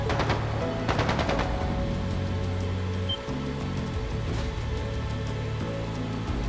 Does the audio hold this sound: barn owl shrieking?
no